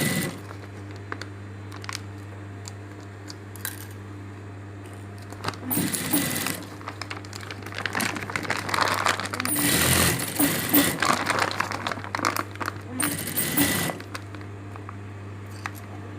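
A sewing machine stitches a strap onto a bag made from a pet-food feed sack, running in a few uneven bursts of close mechanical clatter over a steady low hum, with no talking.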